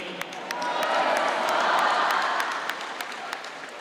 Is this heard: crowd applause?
yes